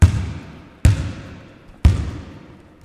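A big blue ball bounces three times on a hard floor, each thump sharp and loud before ringing away, spaced about a second apart with no voices.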